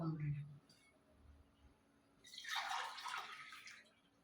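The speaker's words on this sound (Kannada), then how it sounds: "ಎರಡು ಕಪ್ ನೀರು ಹಾಕ್ಕೊತೀನಿ" Two cups of water pour into a pot in a short, splashy stream after a few quiet moments, preceded by brief low speech.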